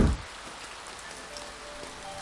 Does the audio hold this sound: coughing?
no